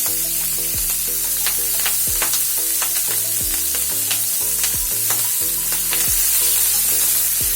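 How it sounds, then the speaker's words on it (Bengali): Onion and spring onion fry loudly in a pan for a katla fish curry, a dense, constant sizzle punctuated by repeated sharp scrapes and knocks of a spatula stirring, with no voices. "পেঁয়াজ এবং পেঁয়াজ কলিটা দিয়ে একটু নেড়ে চেড়ে নেব"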